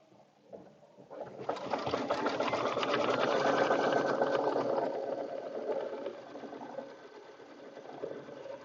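A sewing machine stitches background quilting in pink lemonade thread for a Kimberbell Christmas wall gallery project, a steady close mechanical whirr that starts after a second, holds for about five seconds, then slows and fades.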